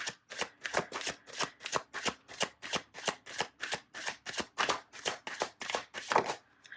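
Tarot cards are shuffled in a steady run of about eighteen crisp riffling bursts, each a quick papery flutter evenly spaced and close up, ending with a card drawn, with no voice over them.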